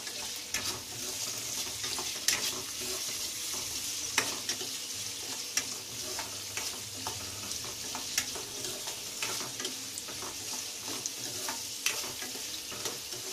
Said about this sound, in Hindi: प्याज को भूनते हैं।